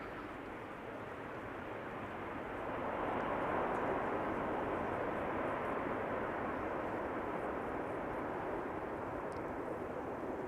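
An airplane arriving at Amsterdam Schiphol Airport produces a broad, rushing engine roar that swells noticeably after a few seconds and then stays steady and fairly loud, with no voices over it.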